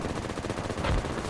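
In the video game Project Reality, a Russian Tunguska anti-air vehicle's cannon fires in a dense, rapid automatic burst, loud and continuous, with a heavier thump near the end.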